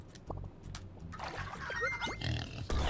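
Pig enemy in the video game Turnip Boy Commits Tax Evasion grunts and squeals among scattered hit and combat effects, a busy mix of short bursts ending in a louder thud.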